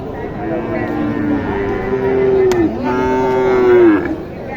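A Sahiwal cow at a rural cattle market gives two long, loud, close moos with a steady pitch, the second following right after the first.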